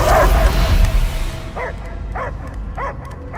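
A dog in a video game barks in a steady series of about five sharp, mid-loud yaps, set over rumbling game noise that dies down as the barking begins.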